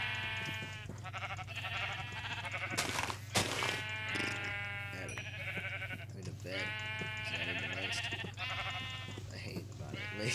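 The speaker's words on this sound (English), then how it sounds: "Sheep. Sheep. Sheep." Repeated sheep bleats in the game Minecraft, close and clear, coming in several short runs over a steady background hum, with someone talking along at times.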